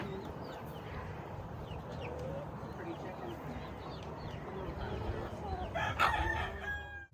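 A rooster crows in an orchard farmyard, fairly faint and somewhat distant, over an outdoor background with scattered bird chirps. A brief louder clatter comes near the end.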